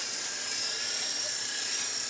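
A small coaxial RC helicopter flies nearby with a steady high-pitched whine of spinning rotors and motor, continuous and fairly close, no talking.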